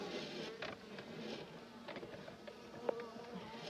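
Honey bees buzz softly and unevenly nearby, the drone rising and falling as they fly around, with one brief louder tick partway through.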